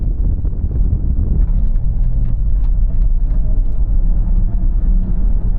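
A BMW XM plug-in hybrid accelerates hard from rest in electric-only mode, giving a loud, steady low rumble of road and wind noise with little engine sound.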